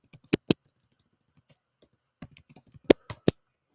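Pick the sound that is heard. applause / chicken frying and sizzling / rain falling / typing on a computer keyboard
typing on a computer keyboard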